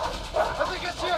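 Dogs in the co-op video game A Way Out bark and yip in short bursts under excited talking from a player, close and fairly loud.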